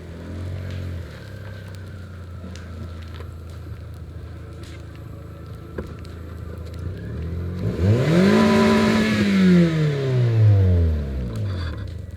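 A Toyota Yaris engine revs hard from about eight seconds while tied off and pulling on a building during a teardown, pitch sweeping up then falling over steady low rumble and outdoor noise.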